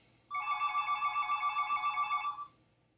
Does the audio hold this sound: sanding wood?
no